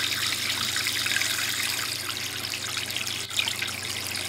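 A quiet pump pushes water through a fine gold recovery bowl, a steady close trickle and gush running continuously under a faint low hum, with no talking.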